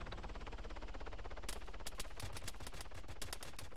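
Rapid gunfire in a video game aimed at the Strider, a continuous rattle of shots with sharper, louder bursts from the midpoint onward, dense and close.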